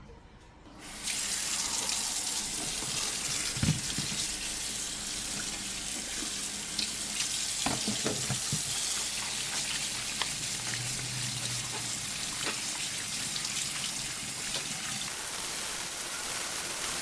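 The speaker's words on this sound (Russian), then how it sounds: "И будем их мыть, ребята, под проточной водой." A kitchen tap runs steadily as chicken hearts are rinsed under the flowing water, a loud continuous splashing rush with a few soft knocks and clinks from handling in the sink.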